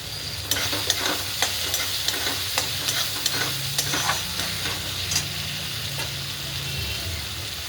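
Vegetables fry in oil in a pan for pasta, a steady sizzle punctuated by a regular series of sharp spatula scrapes and taps from stirring, close and fairly loud, no talking.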